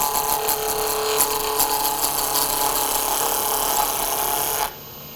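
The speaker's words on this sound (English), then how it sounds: "I'm going to use a thin parting tool to just score this." A thin parting tool scores a spinning wood blank on a lathe for a turned kitchen scoop, a continuous scraping, rasping whir close by that cuts off abruptly near the end.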